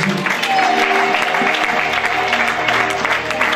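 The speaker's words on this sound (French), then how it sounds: "Est-ce que nous pouvons acclamer Jésus?" A church congregation applauds loudly and steadily, a dense wash of clapping from a large crowd, with a few voices mixed in.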